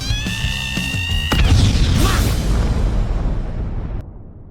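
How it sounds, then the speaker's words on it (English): A loud explosion in an anime defeats a group of monsters, with a sudden broadband crash and roar that swells and rumbles for a few seconds before cutting off. "The resulting explosion defeated the monsters instantly, leaving the adventurers dumbfounded."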